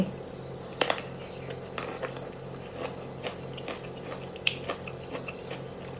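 Crunchy bites and chewing of a large, crisp, mildly sour Japanese plum (sumomo) from a 30-year-old tree: several sharp, close crunches followed by softer, irregular chewing clicks over a faint steady hum.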